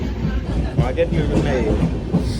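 A train rumbles steadily along the rails with faint rhythmic clacking, heard from inside a carriage.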